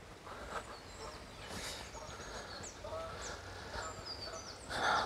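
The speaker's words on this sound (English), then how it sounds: "You can hear the geese there, flying over to the boating lake." Geese honk now and then from a distance as they fly over a park on a spring morning, faint calls scattered over outdoor background noise.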